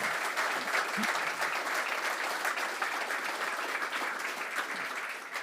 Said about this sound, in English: we should give Tommy a round of applause for his contribution